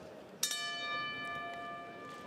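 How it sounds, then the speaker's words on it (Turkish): A boxing ring bell strikes once to open round one of a WBO heavyweight bout between Tom Schwarz and Adnan Redzovic. Its bright metallic ring hangs and slowly fades over a steady arena murmur. "Gong sesiyle birlikte Tom Schwartz, Adnan Rezovic ağır siklet mücadelesi başladı"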